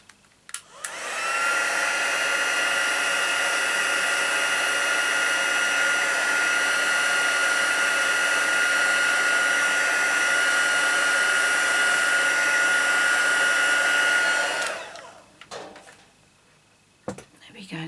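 A heat tool blasts steadily for about fourteen seconds, drying spritzed glimmer paper on a craft table, a loud constant whoosh with a faint whine that starts and stops abruptly.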